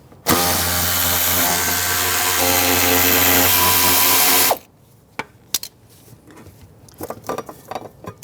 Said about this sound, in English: Now on the left side, we're going to take this cover off. Use a 10mm socket.